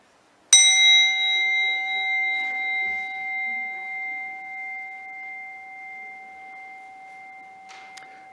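A single bell strikes once during a Sunday service, a clear bright tone that rings close and then fades slowly over several seconds in a quiet room.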